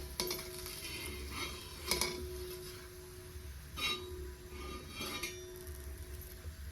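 Fried bitter gourd slices being moved onto a plate, with a few light clinks and scrapes of a utensil against the dish over a low, steady background hum.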